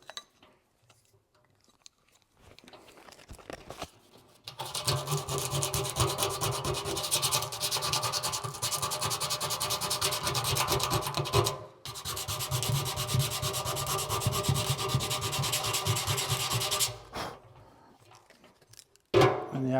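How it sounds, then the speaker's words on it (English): An abrasive pass stripping paint from a steel 55 gallon drum, a steady harsh scraping and rubbing that runs for about twelve seconds with a brief break, starting after quiet and ending in near silence. "I'm going to take some of the paint off here."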